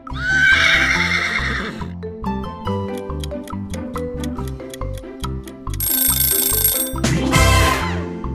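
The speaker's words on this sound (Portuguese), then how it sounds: "Parabéns, é um cavalo." A horse neighs loudly in a shrill, quavering whinny, surrounded by rhythmic clock-like ticking and ringing tones, with a second burst of neighing near the end.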